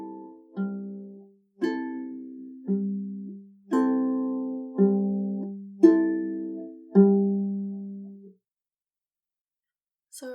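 A ukulele picks out the pattern for a song from Hamilton on tempo: about seven plucked chords ring and decay one after another, played solo and close, with no voice.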